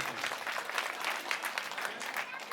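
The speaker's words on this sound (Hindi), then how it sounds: "इसके लिए जोरदार तालियां" A crowd at an outdoor political rally in Burari, Delhi claps continuously at moderate distance, a busy patter of many hands that holds steady throughout.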